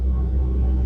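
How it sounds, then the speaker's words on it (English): The waste tank pump on an Elan Impression 45 sailboat runs with a steady, low, droning rumble and no variation, close and continuous for under a second. "until you see that all of the waste is gone, or the pump changes its sound like this"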